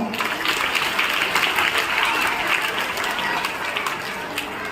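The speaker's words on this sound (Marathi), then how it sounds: "सगळ्यांनी जोरदार टाळ्या वाजवा" A school audience applauding at a function, dense steady clapping from many hands that holds evenly for several seconds, moderately loud and close.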